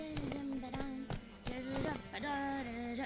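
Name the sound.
horse galloping hooves, from the video game The Witcher 3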